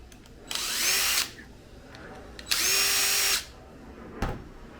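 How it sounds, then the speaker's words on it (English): A power drill backs screws out of an Arrma Vendetta RC car in two separate whirring bursts, each lasting under a second and rising in pitch. A sharp knock follows. The bursts are close and loud against quiet room tone. "And then you got these 3 screws right here. Take these screws off."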